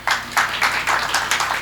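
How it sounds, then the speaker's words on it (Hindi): Applause from a poetry-reading audience at a Hindi comic poetry gathering, a brief burst of rhythmic group clapping that comes in several swelling pulses, fairly close and moderately loud. "इनके लिए एक बार जोरदार ताली बजा दीजिए"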